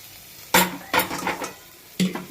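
Spice masala being stirred into khichuri in a pot: three separate scraping stir strokes with soft clatter over a low sizzle, close and fairly loud, no talk.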